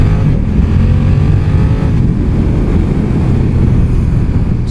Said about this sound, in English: Let's have a look how she accelerates.